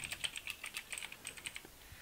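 Typing on a computer keyboard: a quick, close run of light key clicks in an irregular rhythm, heard alone without talk.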